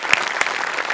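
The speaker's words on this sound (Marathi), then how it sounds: "मस्त, खूप टाळ्या." A studio audience at a Marathi TV comedy show claps loudly for about a second, a dense burst of applause heard on its own with no talk.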